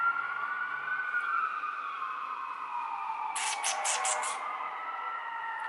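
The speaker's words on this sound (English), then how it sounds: "Now it's just sirens outside." Emergency sirens wail outside at moderate distance, a steady rising and falling tone throughout, with a short burst of rapid yelping pulses partway through.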